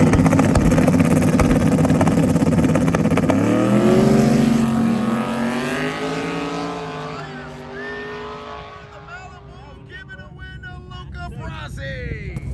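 Outlaw small-tire drag cars launching at Muncie Dragway, a loud, sustained engine roar building and sweeping in pitch before fading into the distance, with an announcer talking over it.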